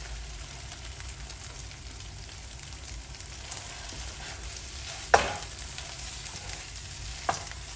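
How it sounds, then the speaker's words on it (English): Ground beef frying in a pot and being stirred, a steady close sizzle broken by a sharp utensil knock at about five seconds and a smaller one near the end, with no talking. "let's get our ground beef in here"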